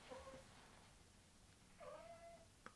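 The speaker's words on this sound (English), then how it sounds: "And the cat wants to join in." A cat meows twice in long, drawn-out tones over a faint room hiss, fairly quiet, with a short sharper cry at the very end.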